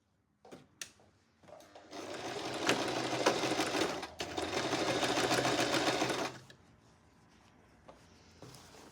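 A sewing machine runs a straight seam on a shirt, its motor whirring steadily in two close, loud bursts of a few seconds each, separated by a brief pause, with quiet handling noises before and after.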